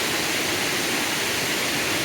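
Waterfall in the Sri Lankan highlands, a dense, steady roar of falling water heard close and loud, unbroken throughout with no voices.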